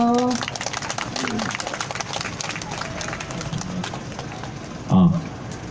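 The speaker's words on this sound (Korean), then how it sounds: "박수로 맞이해주세요" A crowd at an outdoor rally for the Wednesday Demonstration applauds to welcome a speaker, with steady, dense clapping from many people throughout and a brief voice near the end.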